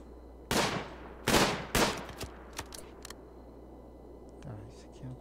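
Sniper rifle gunfire in the colony game RimWorld, three loud sharp shots in quick succession followed by fainter clicks and softer pops, with a low background hum.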